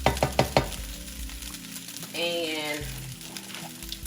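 Butter goes into a pan of chicken wings being fried a second time, and a soft sizzle rises after a few sharp clatters, with a voice speaking briefly over it nearby.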